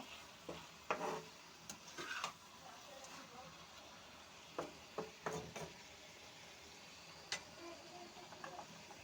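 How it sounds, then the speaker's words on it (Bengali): Boiled ash gourd is stirred in a pan with a spatula, producing soft, faint scraping and light clatter in short irregular bursts over a quiet hiss. "দেখো হালকা জল উঠেছে আর সিদ্ধ হয়ে গেছে। একটু নেড়ে নেব।"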